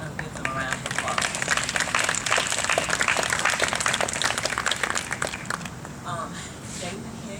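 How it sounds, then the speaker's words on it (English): A crowd claps steadily at an outdoor ceremony opening a new campus road, a dense, sustained round of applause that fades slightly near the end. "I want to give them a round of applause"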